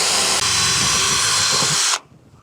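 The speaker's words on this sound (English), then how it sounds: "drilling through carpet is always a pain" An electric drill whirs loudly and steadily, grinding through carpet in a Ford Transit Custom camper van for about two seconds before cutting off abruptly, leaving quiet room tone.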